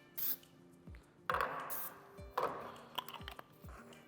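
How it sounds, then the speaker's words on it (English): Baking spray hisses in short bursts over a 9x9 baking dish, with several separate sprays spaced a second or so apart and light knocks of the can and dish between them, close and fairly quiet. "I got a 9x9 baking dish and some baking spray. We're just gonna give it a nice coat"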